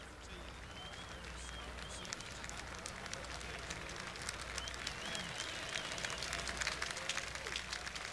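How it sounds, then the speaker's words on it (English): Golf gallery applause at the 1986 Masters final round, a steady, distant wash of clapping from spectators along the course, continuous and moderately quiet under a faint outdoor ambience. "Fine applause."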